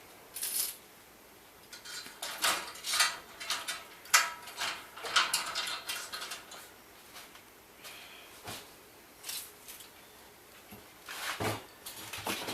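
Metal predator traps, including foothold traps, clank and rattle as they are loaded into a pot, giving a series of irregular metallic clinks and jangles at close range with no talking.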